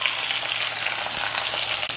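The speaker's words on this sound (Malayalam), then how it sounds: "ഇനി നമുക്ക് ഈ നാളികേരം നല്ല ചുമന്ന നിറം കിട്ടണ വരെ, നല്ല ചുമക്കന വരെ വറുത്തെടുക്കണം" Grated coconut roasting in a pan for chakka erissery, a steady close crackling sizzle that runs without a break and with no voices.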